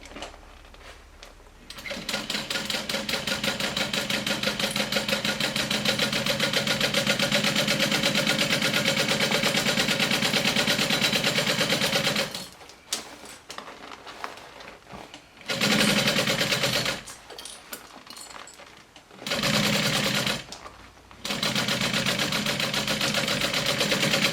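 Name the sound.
sewing machine stitching a fanny pack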